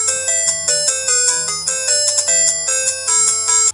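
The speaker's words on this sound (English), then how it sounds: "Sorry, that was my ringtone." A mobile phone ringtone plays a bright, repeating electronic melody of quick tonal notes, loud and close, running steadily for several seconds before cutting off abruptly, with no talking.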